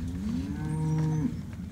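A single cow lets out a loud, close moo that rises and then holds, lasting about a second and a half over low outdoor noise on a cattle farm in the Western Corn Belt.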